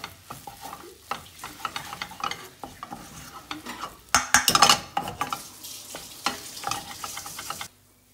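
Corned beef being stirred and mixed in a pan for breakfast, with clattering utensil scrapes and knocks against the metal over a frying sizzle, a louder burst of clanks midway, then stopping abruptly.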